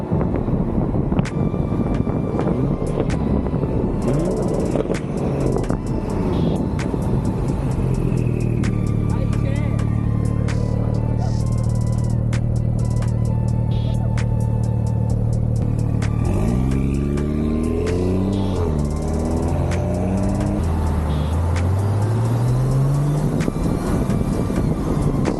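A Porsche sports car's engine and exhaust roar and rise in pitch as it accelerates, with wind buffeting the microphone and people talking over the noise throughout.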